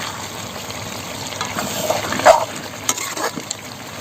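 Pork pieces frying and being stirred in a pan, a soft steady sizzle with scraping stir strokes that grow louder near the middle, heard alone without talk.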